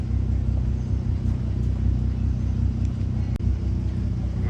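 Engine note of a Volkswagen Golf MKV R32, a deep, steady rumble close by that holds throughout, with no clear rise in pitch and one brief click near the end.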